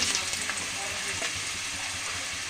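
Cut potatoes frying in hot oil in a home kitchen, giving a continuous, even sizzle and crackle at close range throughout.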